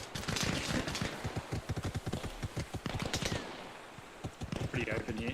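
Gunfire in Arma Reforger during a cooperative PvE operation in Kunar, rapid bursts of rifle shots in quick irregular rhythm, loud and close, with brief pauses and players talking underneath.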